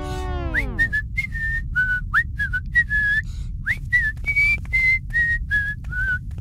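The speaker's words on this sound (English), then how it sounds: "I'll sit here and whistle a happy tune." Someone whistling a cheerful tune, a run of short bright notes rising and falling in a lively rhythm, close and alone over a faint low background rumble.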